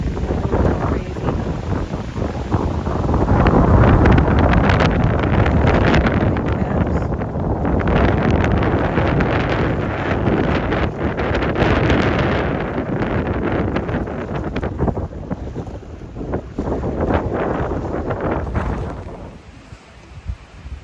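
Strong wind gusts roar across the microphone at a lakeside campsite in Quetico Provincial Park, loud and buffeting in surging waves with leaves rustling, no voices.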